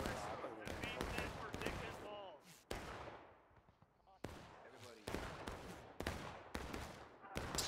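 Scattered musket volleys in War of Rights on the East Woods map of a Civil War battle, sharp cracks near and far at irregular intervals, some echoing, with voices talking between the shots.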